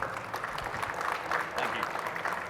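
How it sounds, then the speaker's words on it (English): Steady crowd applause at a marketplace conference keynote, a dense wash of many hands clapping at a fairly even level throughout the clip. "Everyone, please welcome them with a round of applause."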